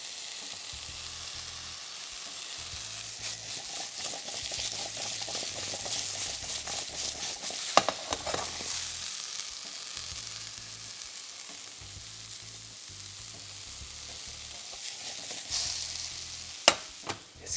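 Food frying in a pan on the stove, a steady sizzle with stirring scrapes and small clinks, close and moderately loud, with no talking over it.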